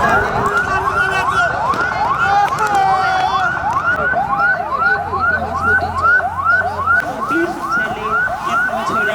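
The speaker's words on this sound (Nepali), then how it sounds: "थप मद्दत टोली र दमकल आइरहेको देखिरहेका छौँ" A fire engine siren wails in steady repeated rising sweeps as it arrives at a joint mock fire-disaster drill. It is loud and continuous throughout, over a low hum of crowd and street noise.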